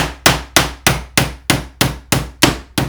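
A hammer driving a 6-penny nail into the thick outer edge of wooden door trim, eight sharp, evenly spaced blows about a third of a second apart, loud and close with no talking.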